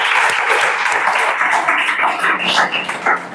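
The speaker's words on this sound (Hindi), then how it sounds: "सब मनियारी वाला जोर ताली बजाओ" Loud, dense clapping from a class of students in a Chhattisgarh police recruitment coaching session, sustained and close, filling the whole stretch with no talk over it.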